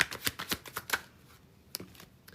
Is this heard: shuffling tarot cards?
yes